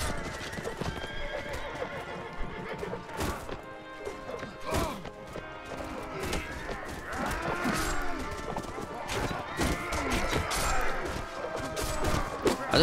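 Horse hooves clip-clopping at a gallop in the video game Mount & Blade: Warband, steady rhythmic beats amid whinnies and battle clatter, moderately close.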